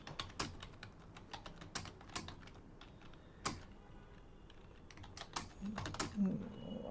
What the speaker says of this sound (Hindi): उसके बाद जैसे मैं ऐसे ये टाइप करता जा रहा हूँ